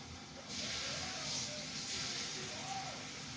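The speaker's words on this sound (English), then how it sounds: "we're going to go ahead and put our tuna steaks on here. Just lay them right on top. You can hear them kind of starting to." Tuna steaks laid into hot oil in a pan set off a sudden steady hiss and sizzle that starts after a brief quiet moment and holds at an even, close level.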